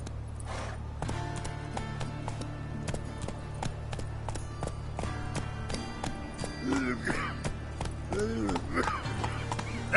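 The horse Roach gallops in the video game The Witcher 3, with steady rapid hoofbeats and a whinny, under a low ambient hum while a voice speaks and shouts.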